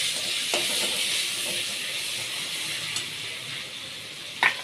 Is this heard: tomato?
yes